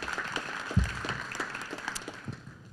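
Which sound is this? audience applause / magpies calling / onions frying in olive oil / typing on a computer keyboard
audience applause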